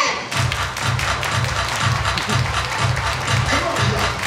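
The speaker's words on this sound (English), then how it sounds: "Everybody clap your hands." At a school basketball dance, a crowd claps hands in a steady rhythm, about two claps per second, over loud music and room noise.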